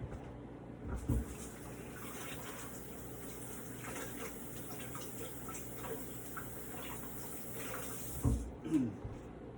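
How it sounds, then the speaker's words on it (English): Tap water runs steadily into a kitchen sink as hands are washed, a soft continuous stream with a couple of louder splashes near the start and end, no talk. "And wash my hands real quick."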